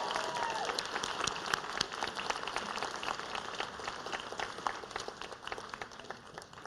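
Students at an academic excellence ceremony receive steady applause from the audience, a dense, even patter of many hands clapping at moderate distance, unbroken for several seconds.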